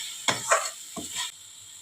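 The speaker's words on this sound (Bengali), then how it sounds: "মশলাটা একটু লাল করে ভাজতে হবে, পেঁয়াজটা যাতে ভাজা হয়ে যায়।" Masala with cumin powder and onion fries in oil for a Tel Koi fish dish, with a few close stirring scrapes over a faint sizzle before it quiets.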